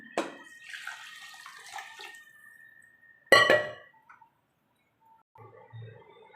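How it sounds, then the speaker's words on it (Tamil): Water splashes and runs into a pressure cooker holding rice and lentils for a few seconds, followed by a sharp clattering impact and a few faint scattered knocks. "இப்போ தேவையான அளவு தண்ணி ஊற்றிக்கலாம்."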